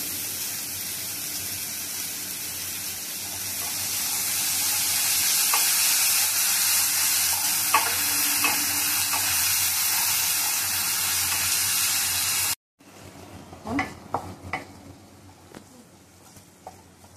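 Chopped onion with a little salt fries in a pan, a loud steady hiss and sizzle with faint stirring scrapes, cutting off sharply near the end to quieter clinks.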